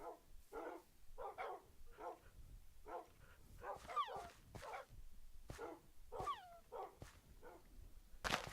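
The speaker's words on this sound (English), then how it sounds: "Still got that one dog all the way out there." A dog in the video game Minecraft barks repeatedly in short yaps and a few whimpering yips, fairly steady in rhythm and moderately close, with no talking over it.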